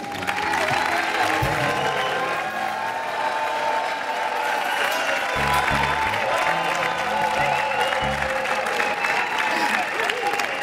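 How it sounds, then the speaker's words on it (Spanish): Audience applause on a comedy variety TV show as a guest walks on, a long steady patter of hands, with studio music and scattered voices underneath. "¡Fuerte el aplauso!"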